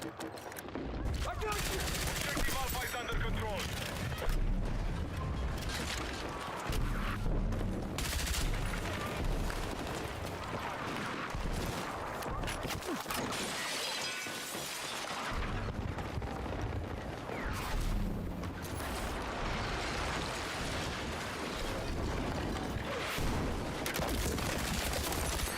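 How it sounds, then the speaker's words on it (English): Dense gunfire and launcher blasts from a Battlefield 6 firefight, continuous and loud throughout with bursts layered over one another, with a player's voice talking over the combat. "Any more GLs or launchers want to fucking shoot at me today?"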